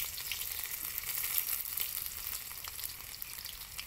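Chopped ginger sizzles steadily in hot oil in a pan for baingan ki sabji, an eggplant curry, giving a continuous close, bright frying hiss with no talking.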